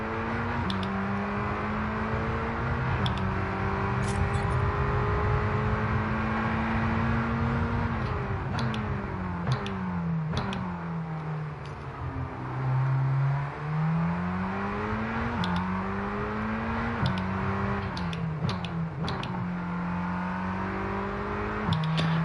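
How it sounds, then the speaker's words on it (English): A supercar engine in F1 22 revs continuously through gear changes, the pitch climbing and then dropping sharply on repeated downshifts, loud and steady throughout with small clicks and pops between shifts. "And this downshift, it's amazing sound."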